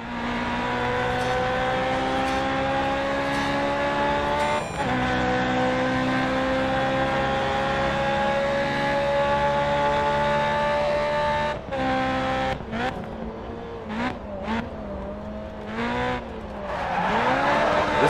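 A Honda S2000 race car in Grid Autosport holds a loud, steady high-revving engine note for long stretches, then shifts and revs up and down with brief tire squeals and skids toward the end.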